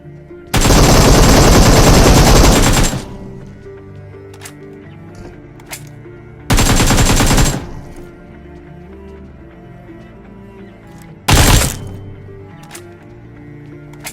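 Automatic gunfire in PUBG at Pochinki, three loud bursts: a long one of about two seconds, a shorter one, then a brief final burst, separated by quieter game ambience with faint clicks.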